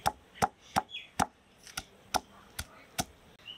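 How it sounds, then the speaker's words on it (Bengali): Ginger being crushed on a stone grinding slab while prepared with garlic and chilli for chicken curry, giving a steady series of sharp, evenly spaced knocks, about nine in under four seconds, close and fairly loud. "আদা রসুন পাটাতে নিচ্ছি, বেটে নেব। একটু থেতো করে নিই, বিশেষ করে আদাগুলো"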